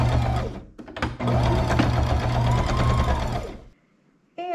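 A sewing machine quilts lines along a quilt border in black top thread, running in a steady loud whir with a short stop and restart, then falling silent before a brief final burst.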